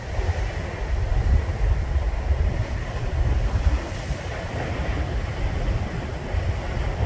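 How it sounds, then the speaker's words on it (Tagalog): Strong ocean waves roar continuously at Canhugas Nature Park with heavy, rumbling surf and wind noise, loud and unbroken throughout. "Ang lakas ng alon."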